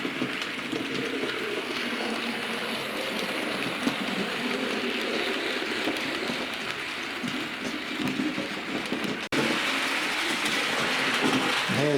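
Model Fairburn tank engine train running steadily on its track, a continuous rolling, rattling noise at close range with no talk, briefly interrupted near the end before resuming.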